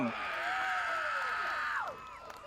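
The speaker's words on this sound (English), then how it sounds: "This better be the loudest applause tonight" Crowd at Kingaroy Speedway during a Production Sedans national title A-Main roars and whoops with a dense, sustained cheer, voices rising and falling, before the noise drops away sharply near the end.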